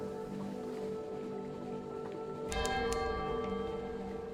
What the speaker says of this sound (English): The distant bells.